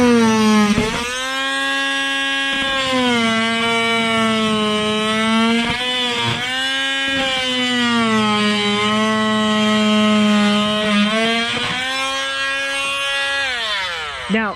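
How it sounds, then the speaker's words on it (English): An oscillating multi-tool cuts for a kitchen tile backsplash with a loud, buzzing whine. The whine keeps going, with brief dips and restarts as the cut goes on. "Now, you don't have to use one of these oscillating tools."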